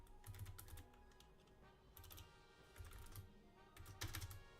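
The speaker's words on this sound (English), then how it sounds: "I'm actually gonna type this out" Fast, steady typing on a computer keyboard, a dense run of close key clicks in short bursts with brief pauses between them.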